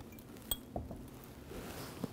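Depression glass dishes give a few faint, scattered clinks as they are handled on a table being set, quiet against a soft room background.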